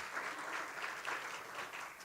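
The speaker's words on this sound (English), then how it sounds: "Round of applause for Edward Jones and Lance Curry." Applause from attendees at a morning business networking event, an even, continuous patter of clapping from a modest crowd, soft and somewhat distant.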